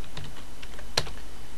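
Keys clatter on a computer keyboard in a short, close burst of a few quick strokes, with one sharper key press near the end.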